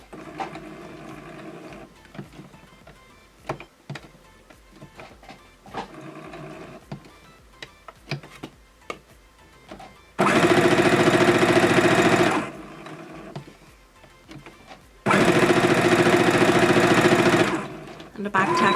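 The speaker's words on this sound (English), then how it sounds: "Now we're combining a straight line stitch, a corner, and back tack." A sewing machine runs a straight line stitch with back tacks in two loud, close bursts of steady whirring, each a couple of seconds long. A person talks over handling noises before them.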